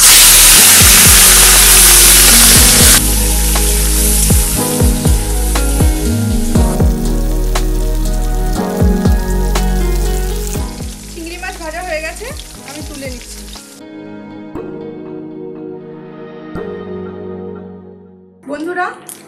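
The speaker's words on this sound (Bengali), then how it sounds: "তেলটা গরম হয়ে গেছে এবার আমি চিংড়ি মাছগুলো ভেজে নেব" Prawns drop into hot oil in a home kitchen and sizzle loudly and steadily, with crackles and a few stirring clinks, the frying fading out toward the end.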